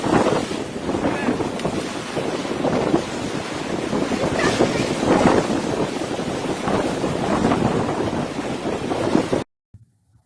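Strong wind and waves on the Lake Erie shoreline: a steady roar of surf with heavy wind buffeting the microphone, loud and continuous before cutting off abruptly near the end.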